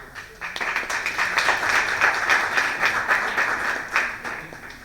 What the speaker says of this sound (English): please give a round of applause to all of our distinguished speakers.